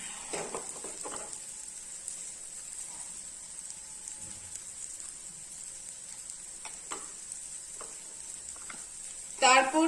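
Coriander, cumin and dry red chili powder fry in a pan on a flame with a soft, crackly sizzle and scattered pops, briefly louder spattering at the very end; no voices.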